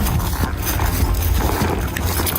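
A horse's hooves clip-clop in a steady, fairly loud rhythm over a constant low rumble, with no voices.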